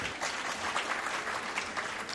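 Audience applause breaks out during a Hindi Jain sermon, a steady dense wash of many hands clapping throughout, moderately loud with no voices over it.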